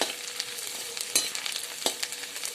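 Grated ginger and garlic frying in a pan for a fish curry, giving a soft, steady sizzle with a few light scrapes of stirring, close and fairly faint.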